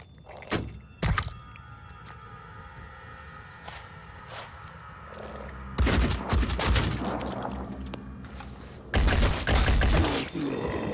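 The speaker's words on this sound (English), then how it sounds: "Really nice return fire, but that is running us out of ammo." Bursts of gunfire in the tactical video game Phoenix Point, scattered single thumps followed by two loud, sustained volleys of shots, with faint background hum between them and no talk.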